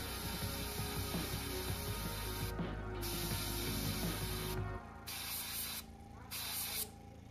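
Steady hiss of an airbrush spraying raspberry paint onto the underside of a fishing lure's mouth, continuous and close, cutting off briefly several times near the end.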